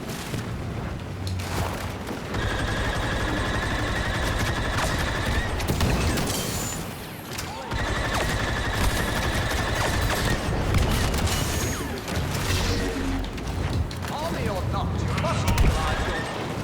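Rapid gunfire bursts and booms from a Star Wars video game, loud and nearly continuous, repeating in waves.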